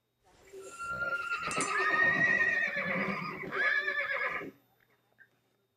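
Several wild horses, held during a roundup in Soldier Meadow, Nevada, whinny and neigh in loud, overlapping calls for about four seconds, then fall quiet apart from a faint brief noise.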